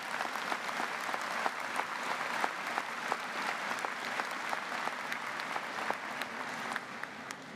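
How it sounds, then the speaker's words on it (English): Graduates at a university convocation applaud together, a steady wash of many hands clapping at moderate distance, with occasional sharper claps standing out and no voices over it. "Give yourself a round of applause."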